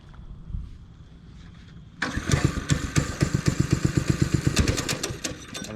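A motorcycle engine starts with a muffled rumble, then catches and idles loudly up close with a rough, rapid pulsing beat and some uneven throttle, no talking.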